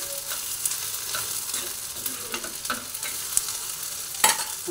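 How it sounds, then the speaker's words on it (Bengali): Washed sabudana (sago pearls) frying in a pan while being stirred, a close, steady sizzle with repeated soft scraping strokes throughout and a sharper scrape near the end, no voices. "সাবুদানাটা ধুয়ে একদম পুরো ভেজে নিয়েছি ভালো করে"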